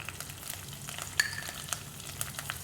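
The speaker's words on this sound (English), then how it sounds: "I'm putting in mustard seeds. So yeah, we're putting some curry patta. And I'm putting lots of garlic." Garlic frying in hot oil with mustard seeds and curry leaves, a steady close sizzle with sharp crackles and small pops scattered across it.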